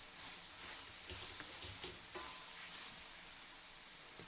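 Brinjal with tomato and turmeric frying in a pan on raised flame, a soft, steady sizzle with a few light stirring knocks, fairly quiet throughout.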